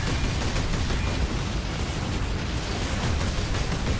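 Heavy plasma cannon blasts in Warhammer 40k: Space Marine, a dense, loud wall of booming explosions and crackling bursts filling the whole stretch with no clear gaps.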